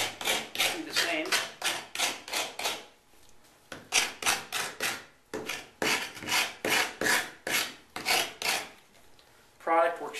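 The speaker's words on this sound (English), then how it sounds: "we'll run it from front to back, nice and slow so you can hear the squeaking noise" Rubber squeegee drawn slowly front to back along a child's ice skate blade, producing a rapid series of close, rhythmic rasping squeaks in repeated bursts with short pauses between passes.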